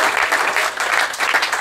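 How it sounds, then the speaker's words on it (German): Steady, fairly loud audience applause at a live stand-up comedy show, a crowd clapping continuously and close with slight surges in intensity. "Gerne mal Applaus für diese."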